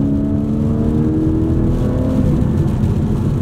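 A Porsche 718 Cayman GTS 4.0 with its four-litre flat-six engine accelerating, a loud, steady, close engine drone with rising tonal harmonics and constant road roar, no voices.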